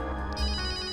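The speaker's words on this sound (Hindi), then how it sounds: "फोन तो इस बैग में से बज रहा है।" A mobile phone rings from inside a bag, a short burst of bright, tonal ringtone at steady level with no voices.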